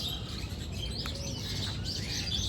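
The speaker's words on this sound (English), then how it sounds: "these birds are going at it" Several birds chirp and squabble in quick, overlapping tweets and short calls against a steady outdoor background, moderately close, with no one talking.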